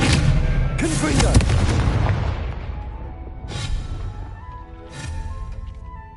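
A Confringo blasting spell from Hogwarts Legacy sets off a heavy booming explosion that rumbles and slowly fades, followed by two more thudding blasts, loud and dense, with battle noise underneath.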